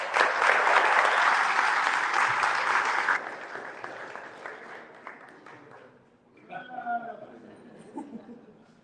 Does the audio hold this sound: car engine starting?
no